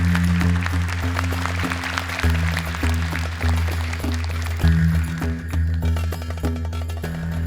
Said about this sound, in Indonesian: Boleh tepuk tangan untuk ke-6 peserta kita.